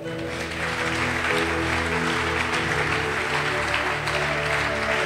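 A church congregation applauds continuously and loudly, a dense steady wash of clapping that holds for about five seconds, with no clear speech on top.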